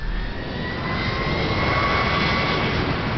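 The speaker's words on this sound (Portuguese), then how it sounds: "Empurrou as manetes e disse: "Estamos indo." O avião começou a rolar" A jet airliner at Tenerife throttles up and begins its takeoff roll, a loud sustained engine roar with a steady whine above it that builds slightly, no voices.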